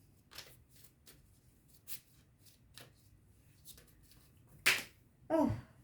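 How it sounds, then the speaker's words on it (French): A deck of cards is shuffled in a few soft riffling bursts during a tarot reading, then spills loudly as the whole pack drops, two sharp close slaps near the end. "j'ai tombé tout le paquet"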